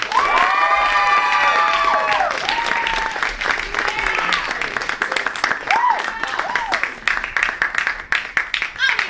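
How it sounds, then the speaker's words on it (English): A comedy show audience applauds and cheers for a presenter, with loud dense clapping, whoops and shouts that thin out toward the end, and someone talking faintly underneath. "So please give a round of applause for Sabrina Damien"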